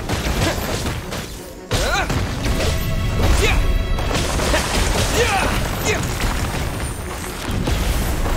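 A Terra smash attack lands in The Chasm video game, producing a heavy crashing impact after a brief drop to near silence, followed by sustained rumbling, clattering battle noise with a voice calling out over it.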